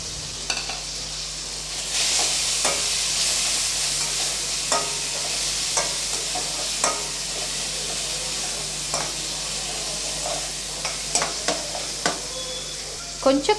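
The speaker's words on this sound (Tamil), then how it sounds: "இப்போ எல்லாமே நல்லா வதங்கிடுச்சு." Whole spices (star anise, a large cinnamon stick, stone flower, two cardamom pods and about five cloves) frying in a pan for meal maker gravy, a steady sizzle broken by scattered scraping stir strokes and clinks, with no talk.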